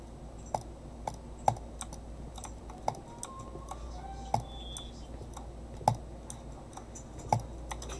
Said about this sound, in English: This is double clicking.